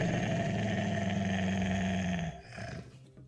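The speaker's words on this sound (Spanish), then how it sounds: "ese perrazo estaba adiestrado para matar" A deep, rumbling growl from a large dog in the video game UnMetal, loud and sustained for about two seconds before cutting off, followed by fainter rustling.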